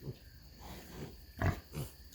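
A few faint, low grunts from poorly doing pigs, spaced irregularly across a couple of seconds with one slightly louder grunt in the middle.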